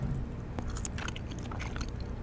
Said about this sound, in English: today we will be doing a Rocketman film review while gum chewing